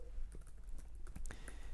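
Code is typed on a computer keyboard in a quick, uneven burst of faint, close key clicks, with no speech over it.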